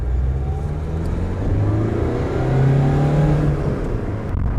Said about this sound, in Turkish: Motor sesi çok sağlıklı.